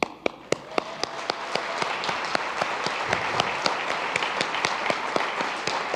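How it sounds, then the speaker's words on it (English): A crowd at a chamber of commerce annual meeting applauds a Hamilton Citizen of the Year, opening with a few sharp separate claps that swell into sustained, moderately loud applause with distinct nearby claps standing out. "you guys should give yourselves a round of applause"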